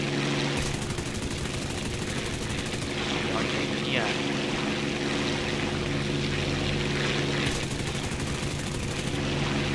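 Fighter aircraft engine in the video game War Thunder, a steady loud droning roar with a constant hum throughout, with brief bursts of gunfire and people talking over it.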